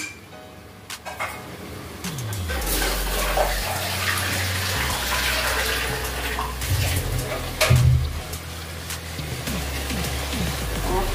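Rice for chicken biryani is rinsed under a running tap, with a steady rush of water, sloshing and gushing bursts, and a few clinks of a pot in a home kitchen.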